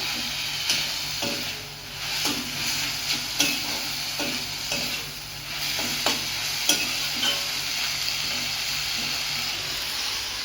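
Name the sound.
frying jute leaves in a pan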